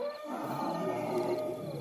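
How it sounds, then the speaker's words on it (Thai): A herd of elephants trumpets and bellows continuously, loud and wild, a dense rumbling din with drawn-out calls, sounding close and chaotic. "ฝูงช้างส่งเสียงเกลียว และวิ่งตามหลังมา"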